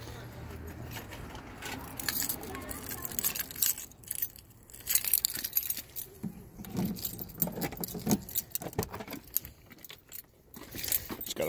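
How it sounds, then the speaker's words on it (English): A set of keys for a 1996 Jeep Cherokee XJ jangles and clinks in bursts as someone rummages for them, close and intermittent, with rustling and knocks in between. "Have to find the keys."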